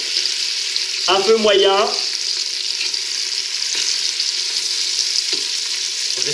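Rabbit pieces and onions browning in a pan, a loud continuous sizzle throughout, with a short spoken comment early on and a few faint clinks.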